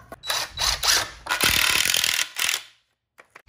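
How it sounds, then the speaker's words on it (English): A power drill driving screws into cross braces for a DIY fireplace mantel, heard as several short close bursts of whirring and ratcheting, then a longer run and a few faint taps before quiet. "next up, we're just screwing in the cross braces"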